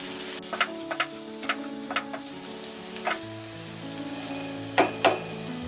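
Cluster beans sabzi with peanut powder being stirred in a pan, a spoon clacking against the metal in a few scattered knocks over a soft sizzle, close and alone.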